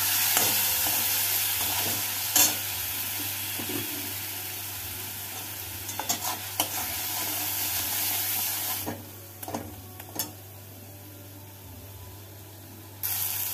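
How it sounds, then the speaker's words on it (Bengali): Spice paste of coriander and chilli powder sizzles loudly in a pan with a splash of water, with a constant hiss broken by sharp scraping stirs; the sizzle thins partway through, then returns. "সামান্য একটু জল দিয়ে মশলাটাকে কষিয়ে নেব।"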